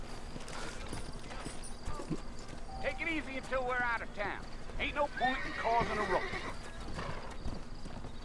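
A horse in Red Dead Redemption clip-clops along and whinnies, hooves tapping under a man's spoken lines, with a clear neigh in the middle of the passage.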